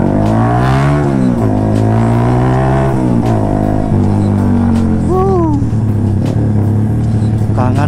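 Yamaha R15 motorcycle riding along with a steady engine drone whose pitch climbs and drops as the rider works through the revs, close and continuous, with someone talking over it.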